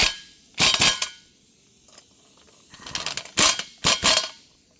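An impact wrench with a 19 mm socket tightens a bolt while a Pittsburgh 1500 lb dolly is being assembled. It gives several short, loud, close rattling bursts: one pair early, then three more near the end, with quiet gaps between.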